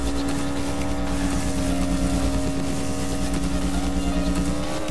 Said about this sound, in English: it sounds like it's roaring when it revs up the engine higher